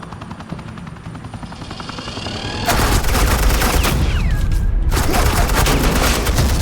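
Suppressing gunfire in a Batman video game: a helicopter's rotor chops steadily, then rapid, loud automatic gunfire bursts in, sustained with only a short break.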